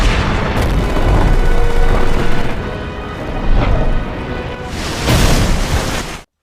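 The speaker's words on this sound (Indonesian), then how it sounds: "Hingga mobil yang dikendarai John akhirnya terbang dan meledak." A car blown up in the 2006 action film The Marine: a loud, dense roar of blast and crackling debris lasting about six seconds before cutting off.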